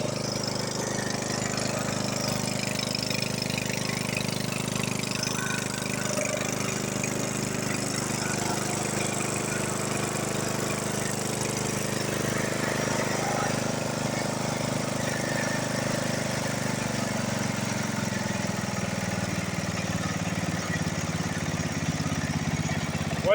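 A small John Deere 68 tractor engine running steadily, a continuous close mid-pitched drone with a faint knocking texture that holds constant with no voices over it.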